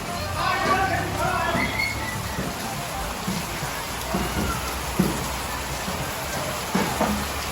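Steady rain patters on a surface throughout, with occasional louder drops, while people talk nearby.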